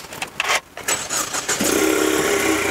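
Ford Mustang 2.3 engine cranks and catches, a brief starter whirr followed by a loud, steady idle that settles in after about a second and a half, heard close up.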